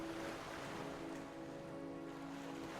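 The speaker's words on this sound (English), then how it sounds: "You hear the sound of crashing waves" Ocean waves crash and wash in a steady, continuous surf, with a sustained tonal drone running underneath throughout.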